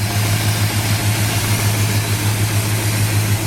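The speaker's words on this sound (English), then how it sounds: "Engine runs fantastic." A 1967 Dodge Coronet R/T clone convertible with a V8 and four-barrel carburetor idles steadily, a loud, smooth, low rumble with an even throb and no voices.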